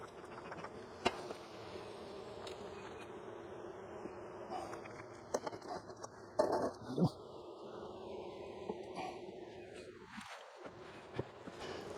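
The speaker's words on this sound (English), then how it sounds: "Now that's a frame of bees." Honey bees buzz on a hive frame in an active beehive, a steady close insect drone with a few louder passes near the listener and faint handling noises, no talk.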